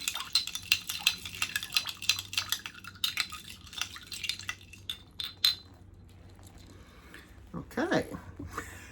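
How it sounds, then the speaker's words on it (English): Spoon stirring an Old Fashioned whisky cocktail in a glass, with rapid, close, bright clinking and scraping in a quick steady rhythm that slows and fades, then a short sound near the end. "And then you just stir in."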